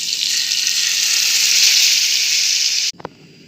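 Beans dropped into melted butter for traditional Egyptian ful sizzle loudly and steadily, a dense close-up frying hiss that cuts off abruptly near the end, leaving a couple of faint clinks.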